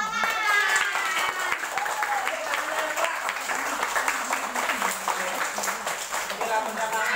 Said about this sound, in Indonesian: Coba kasih tepuk tangan yang meriah